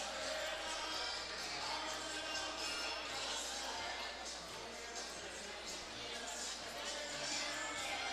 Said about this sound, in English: And the crowd here enjoying it.